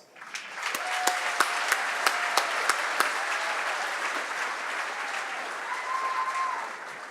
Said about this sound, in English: they certainly deserve a great round of applause